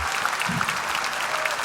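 Brief, steady applause from a church congregation at an evening service, a dense wash of clapping with a faint voice murmur underneath.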